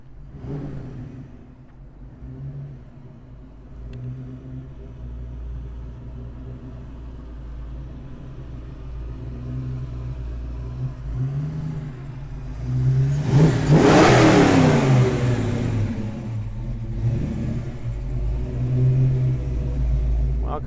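A 1988 Fox Body Mustang with a 331 stroker EFI engine idles with a deep rumble, then revs up loudly mid-clip before settling back into a rough, lumpy idle.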